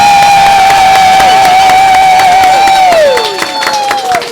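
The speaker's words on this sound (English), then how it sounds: "could I get a video of, just real quick, of everyone just doing raucous and enthusiastic cheers and applause?" Convention crowd at Dragon Con letting out raucous, enthusiastic cheers, whoops and applause on cue, loud and close, with sustained high shouting that tails off into scattered clapping.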